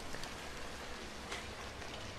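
Rain in the video game Remember Me falls as a faint, steady hiss of drops on surfaces, continuous and soft with no voices.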